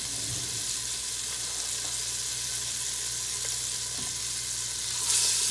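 A whole stick of butter melts in a pot for cheesy Southern macaroni and cheese, giving a steady, soft sizzle and crackle throughout with a brief brighter hiss near the end, no talking.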